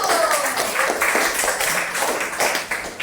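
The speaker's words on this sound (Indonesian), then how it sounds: "Tepuk tangan dulu untuk kelompok 1" Students in a classroom applaud their classmates in group 1, a dense, loud, close patter of many hands clapping together without a break.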